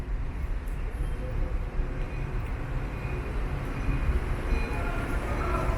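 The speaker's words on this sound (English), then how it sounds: "try to catch the next green train that comes by" Chicago Green Line elevated train arriving at a station, a steady loud rumble and rolling hum of rail cars building slightly over several seconds, with street ambience underneath.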